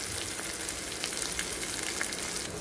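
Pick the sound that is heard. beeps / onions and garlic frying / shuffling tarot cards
onions and garlic frying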